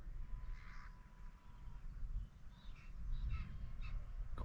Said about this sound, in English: Crows worrying them.